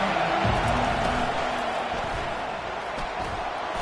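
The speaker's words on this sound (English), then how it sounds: "This crowd bringing the energy and noise early." Virtual stadium crowd in the College Football 25 video game with Georgia Bulldogs, a steady broad roar of distant fans holding at a moderate, unchanging level.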